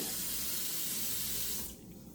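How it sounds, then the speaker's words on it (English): Running tap water pours and splashes steadily into a pan, then cuts off abruptly near the end, leaving quiet room noise. "So I'm just going to rinse this with water."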